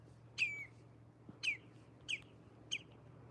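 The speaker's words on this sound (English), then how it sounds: "this bird's trying to talk to me right now" A bird calls on a golf course with four short, sharp chirps spaced about half a second apart, clear and fairly close over a quiet low background hum.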